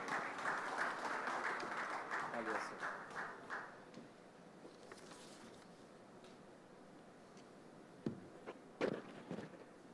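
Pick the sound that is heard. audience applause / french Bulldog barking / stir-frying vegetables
audience applause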